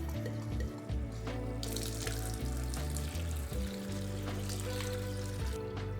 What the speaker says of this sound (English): fill up a little tiny bowl with some tank water